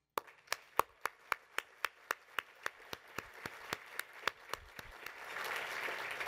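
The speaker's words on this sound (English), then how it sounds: "Please help me thank them for their commitment with your robust applause." At an awards event, an audience claps in a steady unison rhythm, about fifteen sharp, evenly spaced claps, before dissolving into a broader, rushing wash of applause.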